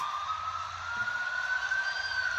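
An ambulance siren during a WWE Raw live wrestling event, a steady wailing tone holding over a low rumble, moderately loud and continuous without voices.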